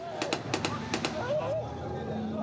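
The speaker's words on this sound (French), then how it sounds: "des coups de feu retentissent soudain" Bursts of machine-gun fire from a Libyan coast guard boat out at sea near crowded migrant boats, several sharp shots in quick clusters, fairly loud, over a background of speech and commotion.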